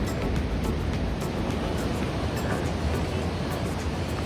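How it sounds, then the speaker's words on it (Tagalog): Strong sea waves at Hundred Islands, Pangasinan, a constant broadband wash of surf and wind noise held at even loudness, close and unbroken, with no speech. "Medyo malakas na kasi yung alon."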